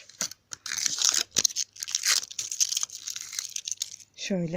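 Protective seal on a home-ordered Unice Multibrand product package being torn open, a run of close crinkly tearing and rustling bursts with brief pauses, one word spoken partway through.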